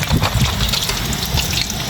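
Sudden heavy rain pouring down during a storm at a mountain campsite, a dense, steady rushing and splashing of water that stays loud and close throughout.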